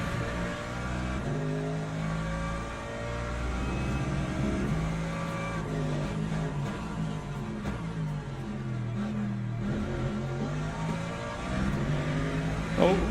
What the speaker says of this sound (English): The LMP3s now, they're a bit slower.